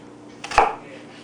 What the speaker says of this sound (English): not quite all the way through the onion. Here, then, lengthwise cuts approximately 1/4 of an inch apart.